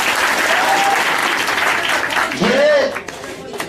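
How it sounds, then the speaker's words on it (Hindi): Applause for a teacher breaks out at a gathering, a loud dense crowd clapping that swells briefly near the end before fading, with voices calling out over it. "ताली मार दिए सर को इसलिए।"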